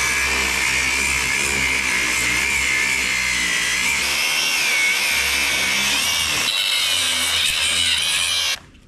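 An angle grinder grinds down a metal hinge, a loud continuous high-pitched whine with a steady rumble underneath that runs unbroken for nearly nine seconds, then cuts off abruptly at the end.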